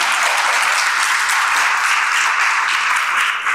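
Sustained, dense applause from an audience at a high school admission information session fills the room, loud and steady with no pauses and no talk over it.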